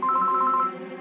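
An incoming call sounds on a phone during a Tamil television drama, a loud electronic ring of repeated two-tone beeps that stops partway through, leaving a low hum behind.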